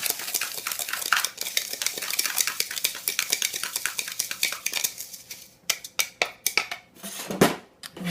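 Spoon stirring cayenne into seasoning salt inside a jar, rapid continuous metallic scraping and clinking that slows into a few separate sharp taps near the end.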